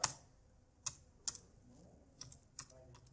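Computer keyboard keys struck one at a time, including an enter press, with a sharp click at the start and several more irregular taps spread across a few seconds, close and fairly quiet.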